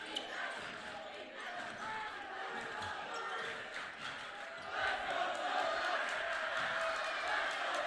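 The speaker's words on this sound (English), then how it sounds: "this crowd on both sides is at a fever pitch" Gym crowd at a boys' high school basketball game between Goffstown and Bedford roars steadily throughout, swelling louder in the second half, with basketball bounces and commentators talking over the din.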